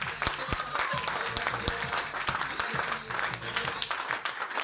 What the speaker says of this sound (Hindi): मैं चाहता हूं कि एक बार ड्यूस ऑफ के लिए जोरदार तालियां होनी चाहिए